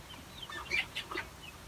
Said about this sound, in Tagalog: Day old pa lang po itong mga sisiw natin at may isang week old po.